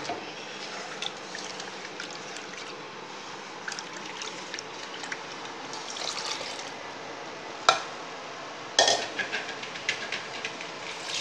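A cooking pot is rinsed and swished with water, a soft continuous watery wash with scattered clinks and a few sharp knocks of metal near the end.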